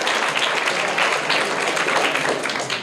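A classroom audience of schoolchildren claps steadily for a student, a dense, even patter of many hands lasting a few seconds at moderate loudness.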